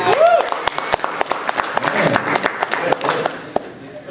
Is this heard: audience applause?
yes